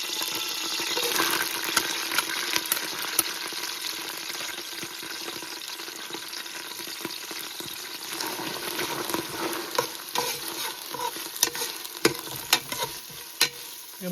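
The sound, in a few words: onions being sautéed in hot oil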